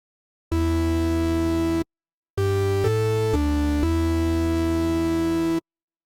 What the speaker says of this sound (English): change that to 2 voices and then just give it a little bit of detune.